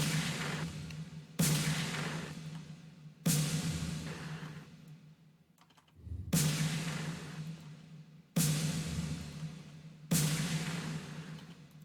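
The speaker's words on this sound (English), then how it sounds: "I found that layering a gunshot sample makes it sound absolutely massive." A snare drum layered with a gunshot sample hits six times at spaced, steady intervals, each a loud, booming crack that decays slowly with a long, heavy tail.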